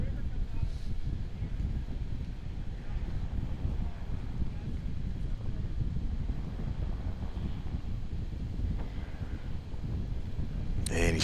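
Wind gusts across an airfield during STOL competition practice at an airshow, buffeting the microphone with a low, rumbling rush that stays loud throughout, with a voice speaking under it.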